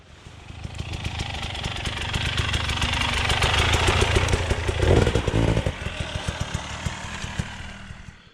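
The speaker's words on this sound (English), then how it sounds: "Okay, Jake, brand new KTM 300." A 2022 KTM 300 EXC dirt bike engine runs nearby, its raspy buzz building in a sustained rev before dropping back to a choppy, sputtering idle.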